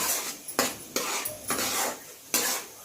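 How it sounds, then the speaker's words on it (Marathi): Spices sautéed in a pan with onion for an egg masala curry, stirred with a metal utensil in sharp scraping strokes, five or six clattering bursts over a soft background of frying, no voices. "आता आपण त्याच्यामध्ये हे मसाले घालून घेऊ. चांगलं परतून घेऊ."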